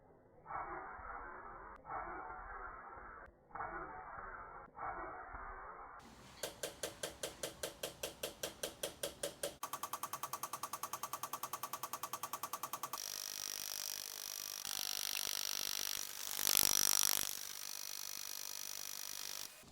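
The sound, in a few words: fuel injectors firing on test bench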